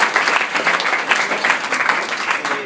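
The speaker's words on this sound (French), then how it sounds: "Salomé et Noah, qu'on applaudit très fort aussi" An audience at an evening event bursts into loud, steady applause that keeps going for the whole short stretch, close and dense, with no talking.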